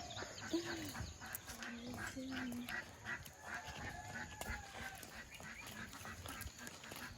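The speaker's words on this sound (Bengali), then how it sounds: "সকালে হাঁস কেমন ডাকছে দেখেছো" Ducks quack in the morning outside a rural Bengali home, giving a series of honking, nasal calls at moderate distance over a busy background of other bird and yard sounds.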